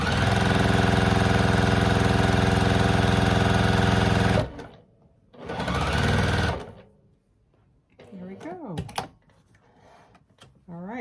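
A sewing machine stitches a quarter-inch seam on a quilt block, running loud and steady for a few seconds, stopping, then running again briefly before a voice speaks over the quieter room.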